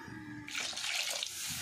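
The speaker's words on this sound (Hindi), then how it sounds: "इसलिए हम अभी इसमें पानी डाल देंगे भिजा के अच्छे से।" Water splashing from a pouring vessel into a pot of village-style potato curry (aloo sabzi) as it cooks, a short bright gush of about a second between quieter kitchen noise.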